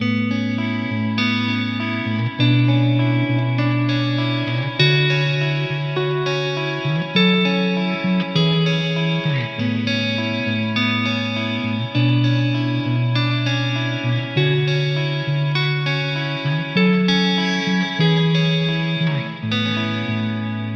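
A steady guitar piece played with a partial capo, with effects, chorus-like shimmer and echo, chords ringing out in a repeating rhythmic pattern for about twenty seconds.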